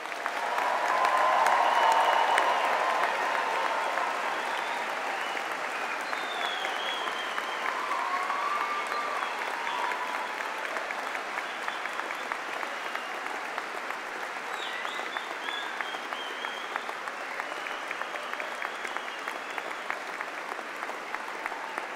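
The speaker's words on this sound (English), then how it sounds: "please join us in giving all recipients of awards a final round of applause" A large audience at a university graduation ceremony gives a sustained round of applause, strongest at the start and settling into a steady, even patter that continues throughout.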